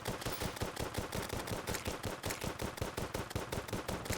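Rapid, steady gunfire from a Terraria character's gun, a continuous run of evenly spaced close shots over a few seconds with no talking.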